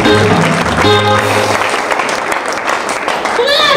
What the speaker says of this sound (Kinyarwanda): Imana se wayikomera amashyi